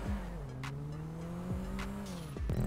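A car in GTA 5 accelerates during a race, its engine tone rising and shifting through gears, with a few brief tire squeals and bumps, fairly quiet overall.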